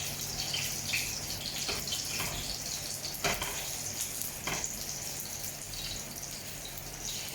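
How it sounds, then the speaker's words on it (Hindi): Chicken burger cutlets fry in a pan with a steady, close sizzle and crackle, and a few louder spits and pops break through the constant hiss. "और दूसरी साइड से भी अच्छी तरह से ऐसे ही फ्राई करेंगे"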